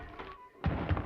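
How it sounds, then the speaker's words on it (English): A wet, heavy thud lands twice in quick succession, a soft knock first and then a louder muffled impact, close and alone without speech. "That wet thud, that's Armand saving me"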